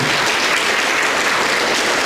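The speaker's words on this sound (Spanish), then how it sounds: "¿Cuánto pueden dar un aplauso a Jesucristo?" A church congregation applauds in praise of Jesus Christ, a loud, continuous, dense roar of clapping that fills the whole moment without talk.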